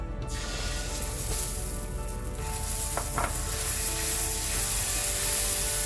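Dosa batter sizzles on a hot pan in a constant, dense hiss that lasts the whole stretch, with a couple of brief scraping clicks near the middle.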